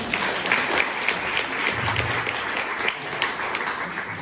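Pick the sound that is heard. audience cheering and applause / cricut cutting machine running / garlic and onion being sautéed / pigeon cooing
audience cheering and applause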